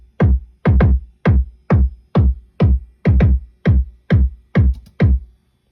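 A punchy, deep kick drum pattern played from an E6400 sampler repeats about eleven loud, tight hits in an uneven, syncopated groove, with nothing else playing.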